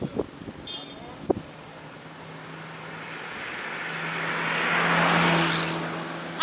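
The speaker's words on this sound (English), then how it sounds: "there are vehicles coming. Let the vehicle pass." A road vehicle on a gravity hill at Kyamwilu, Machakos, Kenya approaches and passes as a smooth rising rumble. It swells to a peak near the end over steady wind noise, and a few brief knocks and voices are heard early on.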